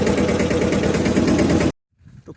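A tractor engine running nearby, a loud steady low rumbling throb for under two seconds before cutting off abruptly, followed by faint low sounds.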